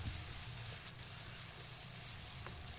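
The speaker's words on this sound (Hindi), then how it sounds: "ये देखें यहाँ पे ये बहुत अच्छे से भून रहा है।" Tomatoes and spices frying in a pot for a mixed vegetable handi give a soft, continuous sizzle with light crackles, steady and fairly quiet throughout, with no talking.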